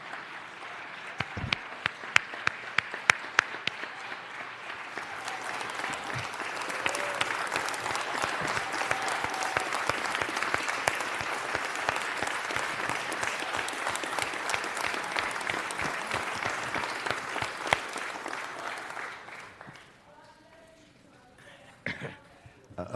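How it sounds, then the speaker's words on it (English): Sustained applause fills a city council chamber for Chief Beck, a steady dense clapping with scattered coughs that carries on for about twenty seconds before fading to a few last claps. "give another round of applause to Chief Beck"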